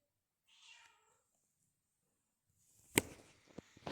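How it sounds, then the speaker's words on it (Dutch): A faint, short cat meow, then quiet, followed by a few sharp knocks and clatters nearby. "Ik hoor hem miauwen."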